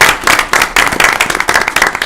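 An audience at a board meeting applauding, a dense, loud burst of many hands clapping continuously and close.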